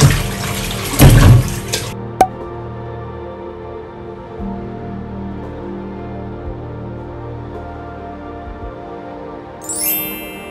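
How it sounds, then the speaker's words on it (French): Cassava being rinsed under running tap water, with a loud splashing burst at the start that gives way to a quieter, steady trickle in the background. "Je l'ai rincé plusieurs fois, abondamment à l'eau."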